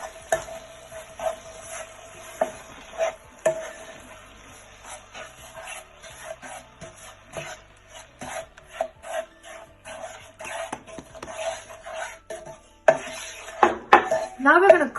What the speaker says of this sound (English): Now we're gonna constantly mix it. Don't leave this, it might just stick to the pan.